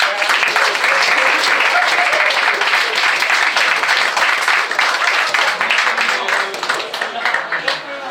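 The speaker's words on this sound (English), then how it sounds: "I think they deserve a round of applause." A presentation-night audience applauds the venue staff with sustained, dense clapping that stays loud and steady before thinning slightly toward the end, with some talk mixed in.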